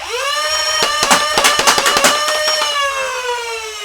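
A select-fire Jyn Erso Nerf M16 blaster runs in full auto: a motor whine rises, then a rapid, loud burst of about a dozen sharp dart shots rattles out before the whine slowly winds down. No talking.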